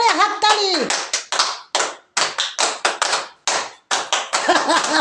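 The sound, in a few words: people clapping loudly at a birthday celebration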